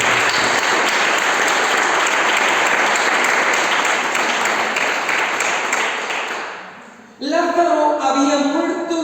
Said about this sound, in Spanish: Regálale un aplauso a ustedes.